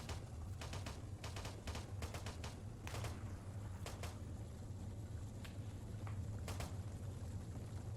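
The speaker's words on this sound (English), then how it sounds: "We're taking some fire." Gunfire in the military video game Arma 3, a scattered run of distant rifle shots and short bursts, some clustered in quick volleys, over a steady low rumble of background ambience.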